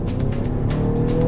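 A 2015 Lincoln MKC crossover drives with a steady, loud low engine drone and road rumble, brief and continuous.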